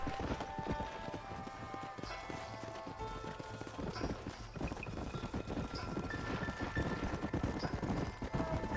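Horse hooves clip-clopping in the Red Dead Redemption video game, a steady trotting rhythm mixed into game music and ambience, fairly quiet and continuous.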